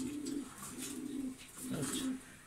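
Pigeons coo steadily at a Bangladeshi pigeon farm housing close to two hundred birds, including racers. Low, throaty coos repeat in overlapping waves, close and moderately loud, with faint chirps above.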